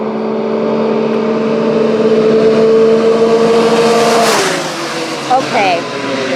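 A BMW X3 roars past on a 0-60 Dragy acceleration run, its engine note climbing steadily and loudly before a sharp shift and a quick drop-off as it passes close by, with brief later engine bursts.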